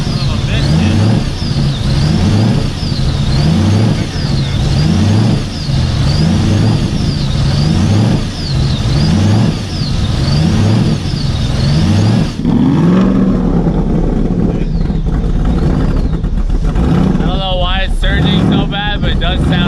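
A Ford Crown Victoria police car fitted with swapped GT500 camshafts revs loudly and continuously up close, its rough, lopey engine note rising and falling in repeated pulls before a sharper blip near the end.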